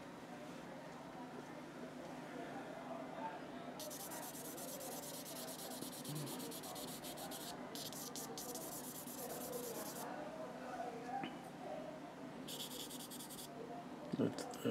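Charcoal scratches and rubs across paper in bursts of sketching strokes, close and crisp, with soft room murmur between the strokes.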